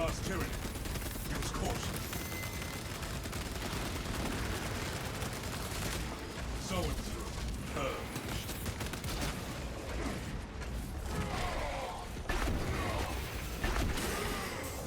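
Gunfire in a horde shooter video game on absolute difficulty, dense bursts of shots and impacts layered over game music and effects, with a player talking throughout.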